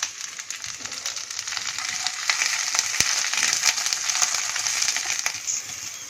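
Okra and onion frying in hot oil, a steady close sizzle with occasional stirring scrapes and clicks, no voices.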